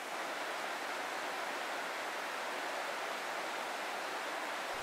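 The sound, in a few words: mountain trout stream flowing, high water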